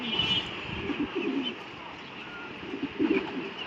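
A Pakistani high flyer pigeon coos softly in short, low murmuring bursts, close by, over a faint steady background hum.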